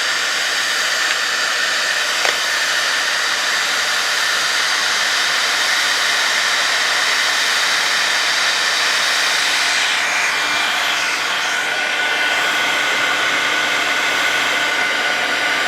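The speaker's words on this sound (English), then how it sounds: "I'm going to use my heat tool. I'm going to let it heat up away from the project first" A crafting heat tool blows hot air in a steady, loud, unbroken hiss that runs continuously with no talk.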